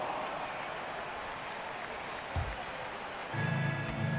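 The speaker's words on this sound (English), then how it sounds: "Give them a round of applause." Steady crowd applause fills a basketball arena for a dance team in NBA 2K23, with scattered cheers and a buzzer-like tone near the end.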